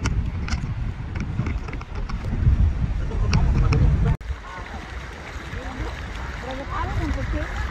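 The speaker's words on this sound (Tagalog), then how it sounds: "Guys, sobrang lakas ng hangin." Strong wind buffets the microphone on a fishing trip by the water, a heavy low roar that rumbles beneath people talking, then drops after an abrupt cut into a thinner, hissing gust with water sounds.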